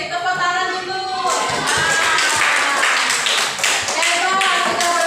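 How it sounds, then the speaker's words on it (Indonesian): Children in a fourth-grade classroom clap together after a pupil finishes answering, a dense burst of small hands rising after a second and continuing steadily, with a teacher's voice briefly audible at the start. "Tepuk tangan dulu."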